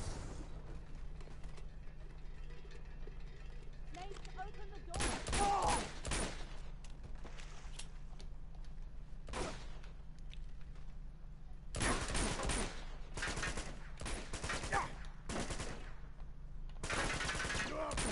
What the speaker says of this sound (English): Shoot the lock.